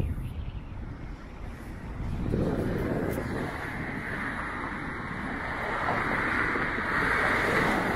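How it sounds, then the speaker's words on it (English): Outdoor wind buffeting a camera microphone on a breezy city walk in Toronto's East End, a steady loud low rumble that swells and stays strong throughout, with no talk over it. "if my voice gets drowned out by the wind every now and then"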